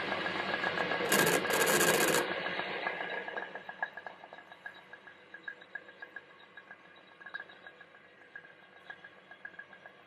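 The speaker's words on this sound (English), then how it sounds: "So the carbide insert really doesn't like the interrupted cut of that thread." A lathe with a carbide insert cutting a thread on a stainless steel fishing reel power handle, giving a steady close grinding hum with rhythmic ticking from the interrupted cut, after a brief louder hissing burst near the start.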